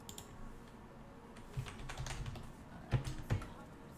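Login credentials typed on a computer keyboard in quick, uneven bursts of soft clicks, with a few louder keystrokes near the end and no talk.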